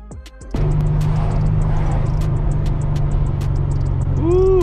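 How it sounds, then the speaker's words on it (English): An Infiniti G37 with a built VQ engine kicks into a rough, steady idle after a brief start, running loud and close with a slight uneven pulse throughout. "car sounds bad when it runs bad"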